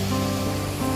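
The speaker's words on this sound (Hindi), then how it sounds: "और यहाँ भी देखिए पानी गिर रहा है, पानी गिर रहा है डैम से" Water pours steadily over a dam, a loud, continuous roaring rush filling the whole span without any pause.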